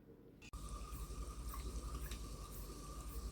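Water runs from a tap into a pot of peppers for Haitian epis, starting with a sharp onset and then a steady, close, gurgling stream filling the pot.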